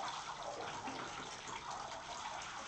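Water sloshes and splashes steadily in a baby's bath, a continuous close wash of liquid noise with a brief louder splash right at the end.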